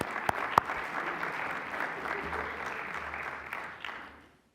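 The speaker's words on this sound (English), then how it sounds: "We can clap for that" An audience at a Chicago City Council meeting breaks into applause, moderate and fairly distant, with a couple of sharp louder claps near the start, fading out at the end.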